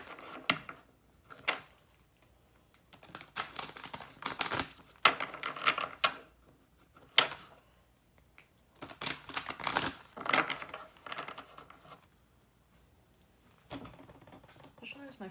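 Stiff, sticky new Alice in Wonderland tarot cards are shuffled in bursts of crisp clacking and riffling separated by pauses, close to the listener, with a person talking intermittently between the bursts.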